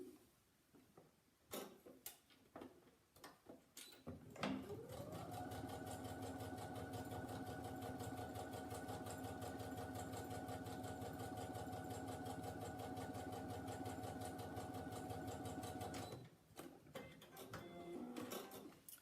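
Sewing machine stitching a quarter-inch seam on edging for a Christmas wreath, one continuous fast whirring run of about twelve seconds, close and clear, framed by quiet handling clicks before and after.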